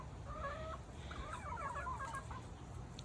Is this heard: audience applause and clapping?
no